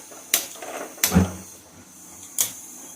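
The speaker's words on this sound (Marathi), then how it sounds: "इकडे कढई ठेवलेली आहे गॅस चालू करूया" Three sharp clicking bursts from a gas stove knob or igniter, spaced irregularly against a quiet background.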